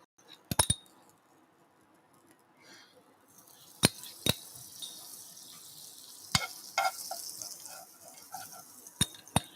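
A tortilla fries in butter over low heat, giving a faint, soft sizzle broken by a few sharp clinks and taps of utensils against the pan, close with no talk.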